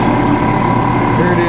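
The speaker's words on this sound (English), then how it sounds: "bandsaw. Making a lot of racket over here, but it seems like it's working okay." A metal-cutting bandsaw runs through metal stock in a workshop, a loud, steady mechanical racket with a constant droning hum.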